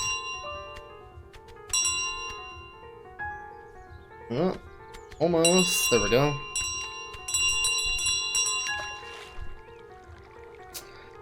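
In Untitled Goose Game, a goose carries a loud stolen bell that clangs and rings repeatedly with bright metallic tones, while a person talks briefly over the ringing and game sounds.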